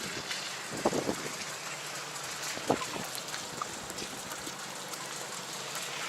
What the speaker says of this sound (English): It started pouring just now as soon as I go inside.